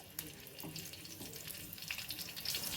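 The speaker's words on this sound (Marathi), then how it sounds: "मिरच्या छान तळल्या गेलेल्या आहेत" Whole green chillies, five or six hot ones, fry in hot oil for a radish chutney, giving a steady close crackling sizzle with faint spatters and no voices.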